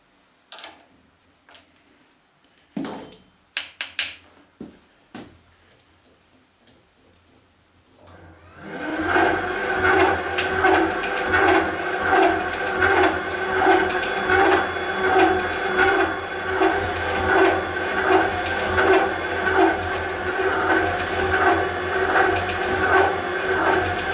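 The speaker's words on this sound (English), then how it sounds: "we're going to use the high rake, big radius shear tool" A metal lathe cutting steel with a high-rake, big-radius shear tool, starting with a few sharp clunks and then a loud, steady machine drone with a rhythmic pulsing whir, close, with no talking.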